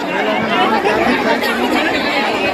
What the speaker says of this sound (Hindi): बहुत ज़्यादा भीड़ है संगवारी हो।